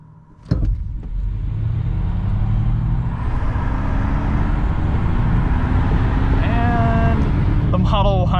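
A 2021 Ford Mustang Mach-E and a Tesla Model Y launch side by side in a drag race, a sharp thump followed by a loud, sustained rush of tyre and wind noise with a rising electric whine and brief voices near the end.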